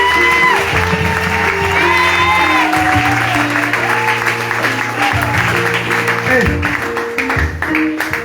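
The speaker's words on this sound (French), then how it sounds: "Acclame Jésus et je continue." Church congregation applauding and acclaiming Jesus during a prophetic evening service, a steady wash of clapping and cheering voices mixed with music and sustained tones, loud and continuous throughout.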